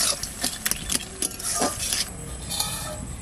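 Clinks and scrapes of a cooking pot of greens with crab being lifted off the stove, several light metallic knocks spread over a few seconds at close range, no talking.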